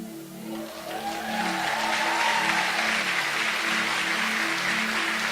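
A church congregation applauding during a Sunday morning service, the clapping building from a quieter start into a full, sustained ovation over a low steady hum and a brief sliding tone.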